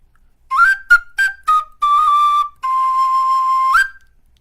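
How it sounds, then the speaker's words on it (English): A clear, high whistle plays a short tune alone: a few quick separate notes, then two long sustained tones ending in a brief upward flick. "I love hearing the whistle played."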